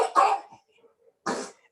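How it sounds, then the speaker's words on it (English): A baby coughs in the background of a home setting, two separate short rough coughs about a second apart, fairly close and alone with quiet between them. "I have a coughing baby in the background"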